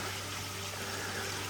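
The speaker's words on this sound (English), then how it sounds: "I can hear water falling over there." Water falling over rocks in a creek drainage in the Clifty Wilderness of Red River Gorge, Kentucky, a steady faint broadband rush with a low hum, distant and continuous.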